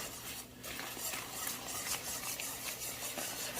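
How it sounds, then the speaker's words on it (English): A wooden spoon stirs hot butter toffee with almonds in a pan, a continuous scraping and rubbing with soft, rhythmic swishes and faint sizzle, fairly quiet and close, without voices. "I keep mixing."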